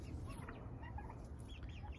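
Meat chickens, including roosters, cluck softly and continuously in a short burst, a few birds murmuring together with no one speaking.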